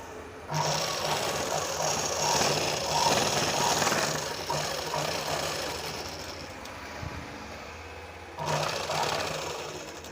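A sewing machine stitching the lining of a blouse runs in a continuous mechanical whir, starting abruptly, pausing briefly near the end, then resuming, with no talking.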